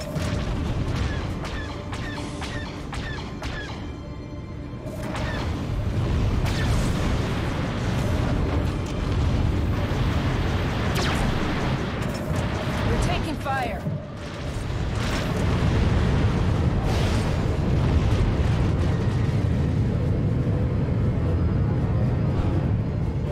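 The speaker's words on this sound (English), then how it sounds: "We're taking fire." A ship in a video game takes incoming fire, with heavy booms and crashing impacts rolling in repeated loud bursts over a dense, rumbling din, no talk.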